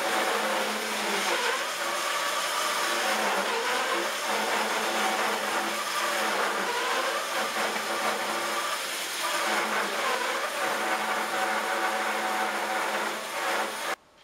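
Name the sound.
band saw cutting wood pieces for veneer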